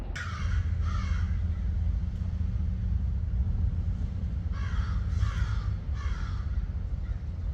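Two crows caw in quick bursts, pausing, then several more harsh caws follow, moderately distant over a low steady rumble.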